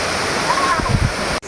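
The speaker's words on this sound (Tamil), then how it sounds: "அருவி வந்துட்டோ." Courtallam waterfall rushing water, a loud, steady broadband roar that carries without pause, briefly touched by a voice and a short whistle-like tone before a sudden cut near the end.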